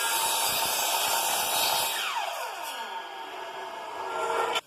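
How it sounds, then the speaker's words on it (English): A drop saw slices through skirting board set at a 45-degree mitre, a loud, close, steady cutting roar lasting about two seconds before the blade's whine glides downward as the motor spins down. "So set your drop saw to 45 degrees and then cut the end of your skirting"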